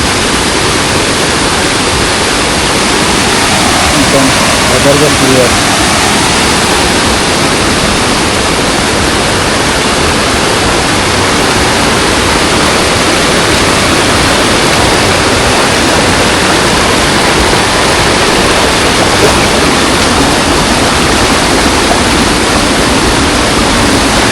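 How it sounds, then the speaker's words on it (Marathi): A fast-flowing stream near a waterfall at the Ganpati Gadad caves rushes in a loud, steady broadband roar that fills the whole stretch without a break, close by and with no voices. "खाली पाण्याचा फ्लो जास्त आहे"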